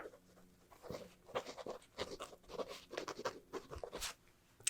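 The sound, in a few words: pen writing down measurements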